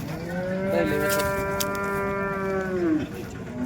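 A heifer tied to a stone at the Modnimb cattle market lets out one long, loud moo that holds steady for about three seconds before breaking off, close and alone.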